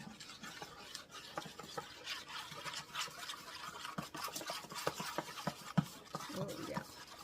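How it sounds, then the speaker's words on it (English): Horchata de morro with cinnamon and vanilla being stirred, a steady run of light scraping and liquid swishing strokes with irregular clicks against the container, close and fairly quiet throughout. "So I'm gonna just give it a nice little stir."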